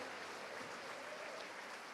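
Congregational applause during a Portuguese-language New Year's Eve church service, a steady dense crackle of many hands that fills the whole moment without a break, with no voices rising above it.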